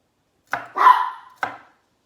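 A dog barking indoors in a home kitchen during cooking: three sharp, close barks, the middle one longer and drawn out, with silence before and after.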